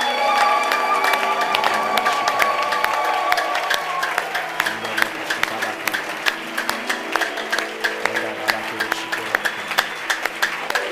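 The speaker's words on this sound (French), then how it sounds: "Y a-t-il quelqu'un pour acclamer le Seigneur ce matin?" A church congregation at a worship service applauds and cheers for the Lord, loud sustained crowd clapping with voices mixed in, settling into rhythmic claps toward the end.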